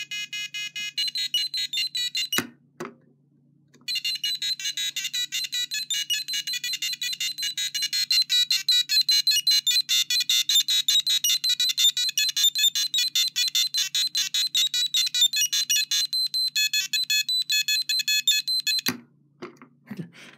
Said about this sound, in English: Kind of hear the modulation right through the speaker